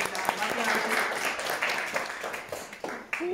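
Audience applause at a poetry slam in a Rotterdam reading room, a moderate, fairly distant spread of clapping that carries on under a speaking voice before tapering off.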